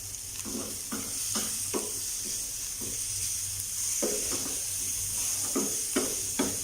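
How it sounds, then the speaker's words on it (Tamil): Chopped vegetables sauté in a pan for an egg omelette, a steady close sizzle broken by repeated soft scraping strokes of stirring, with no talking. "லைட்டாக வதக்கினா போதும்."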